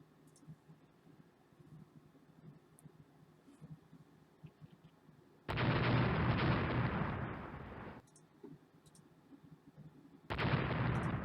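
Torpedoes striking the battleship USS Minnesota in the naval strategy game Rule the Waves, heard as two loud, roaring blasts, the first sustained for about two seconds and the second after a short pause, over a quiet low rumble.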